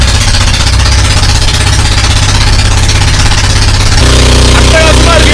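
A traditional Filipino bangka boat's engine runs out on the open ocean on a morning ride near Balicasag Island: a loud, steady, close motor drone that shifts slightly in tone partway through.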